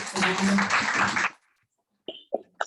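Brief burst of clapping from a small group on a live Zoom call, fairly close and busy for about a second before dropping to near silence, followed by a few faint scattered sounds.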